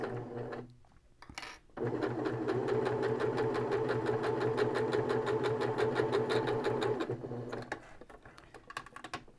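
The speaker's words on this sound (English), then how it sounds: "we're just going to stitch straight across" A sewing machine stitches straight across the end of a fabric hair scrunchie, a loud rapid even rattle for several seconds that starts and stops with quieter handling on either side.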